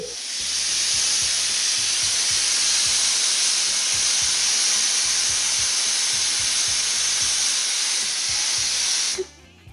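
A pressure cooker steams loudly over rice for duck biryani, a continuous strong hiss with a faint rattling pulse beneath, cutting off abruptly near the end.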